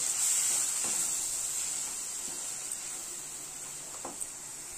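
Soybean paste frying in mustard oil while being stirred gives a steady, bright sizzling hiss, with faint occasional scrapes of the spoon against the pan and no talk.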